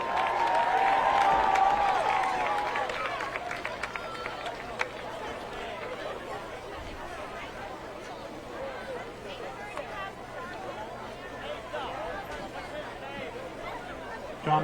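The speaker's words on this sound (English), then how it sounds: "round of applause for Johnny Dunleavy in his 14th year at Winchester High School." A crowd applauds in the stands at a Winchester High School varsity football game against Reading. The clapping is strong for a few seconds, then fades into a steady murmur of chatter heard from a distance.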